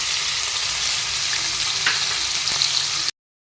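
Constant dense sizzling of onions frying in hot oil, close and even, with a faint clink or two near the end.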